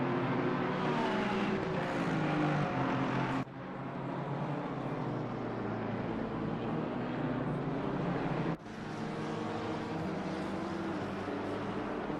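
Race car engines drone and whine on the Misano circuit in Assetto Corsa Competizione, a sustained, steady roar with shifting harmonic pitches and two abrupt cuts where the sound drops and resumes.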